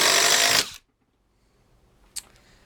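A power drill driver runs loud and steady while driving a screw, then stops abruptly, leaving near silence broken by one brief sharp click.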